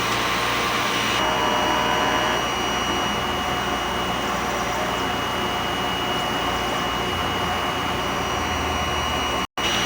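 A sublimation printer runs its print-head cleaning cycle after a week of sitting unused, giving a loud, steady whirring and rushing drone that holds almost without change for about ten seconds, with no voices, before a brief drop right at the end.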